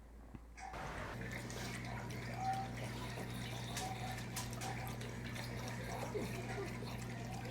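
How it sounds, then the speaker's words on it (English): Water draining, a steady rushing gurgle that starts abruptly after a brief silence and continues evenly at close range, with faint voices underneath. "No, water draining."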